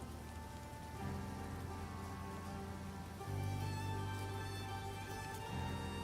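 Steady rain patters on a surface throughout, a dense even hiss with no pauses, layered over sustained low droning tones that shift in pitch partway through; no voices are heard.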